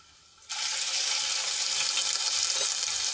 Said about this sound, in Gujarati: પેસ્ટને આપણે થોડી તેલમાં સાંતળી લઈશું